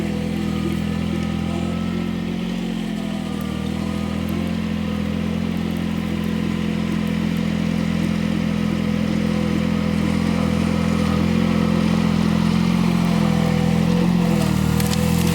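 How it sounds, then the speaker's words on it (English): 25 hp tractor engine running steadily while moving logs with a grapple, a continuous low rumbling drone with some clattering, close and unbroken throughout. "Try not to run the engine at too high of RPMs when I'm doing grapple"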